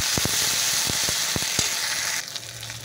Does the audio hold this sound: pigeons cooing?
no